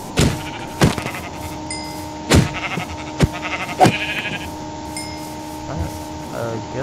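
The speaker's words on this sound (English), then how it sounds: "Sheep, get over here." Sheep bleat repeatedly in a survival video game, short nasal calls recurring every second or so at close range while a person talks over them.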